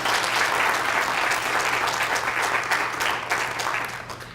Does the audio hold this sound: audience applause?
yes